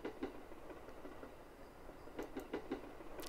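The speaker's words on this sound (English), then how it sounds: "I feel like this train will never stop" Train in the horror game Yurei Station rolling along in a faint, continuous rumble with soft rhythmic clickety-clack of wheels over rail joints.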